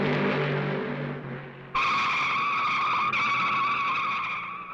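Fred Lorenzen's race car loops and skids on the Darlington backstretch during the 1970 Southern 500, its engine roar giving way to a loud, sustained tire squeal that jumps in pitch and holds.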